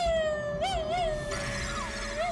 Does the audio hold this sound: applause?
no